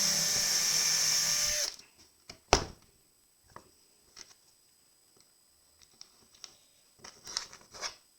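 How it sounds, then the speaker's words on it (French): A power drill bores a hole in a panel while picture-hanging hardware is installed: a loud, steady whine runs for under two seconds, then cuts off, followed by scattered faint clicks and scrapes. "je fais un trou avec la perceuse."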